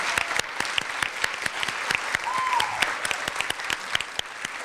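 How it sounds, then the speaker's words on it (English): Audience applause at a Williams College winter celebration for a performer and a speaker, steady clapping from a crowd throughout with sharp individual claps standing out, no talking. "Could we give another round of applause to the two wonderful, our performer and our speaker."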